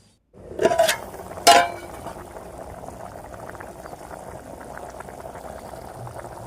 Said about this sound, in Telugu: పోసుకొని ఒకసారి బాగా కలుపుకొని ఉడికించుకోవాలి మూత పెట్టుకొని